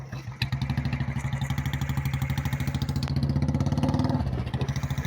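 A Royal Enfield motorcycle thumps along in a steady, loud single-cylinder pulse, close by, the beat quickening slightly before easing near the end, with no voices.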